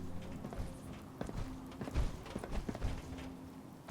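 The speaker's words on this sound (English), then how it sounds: "It sounds like both power armor and a regular footstep at the same time." Companion MacCready's footsteps in Fallout 4 power armor, a run of heavy thudding steps with a doubled clomping rhythm, fairly faint beneath game ambience.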